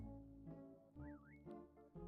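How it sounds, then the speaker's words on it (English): A short rising-and-falling warbled whistle from the Amiga game Monkey Island 2: LeChuck's Revenge, heard faintly over soft tonal game music. "Oh, listen to that whistle."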